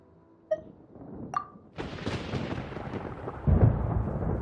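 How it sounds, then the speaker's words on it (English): Thunder in the video game Genshin Impact rolls in as a long, loud rumble after two short tonal chimes, swelling into a heavier crash near the end. "Paimon hears thunder!"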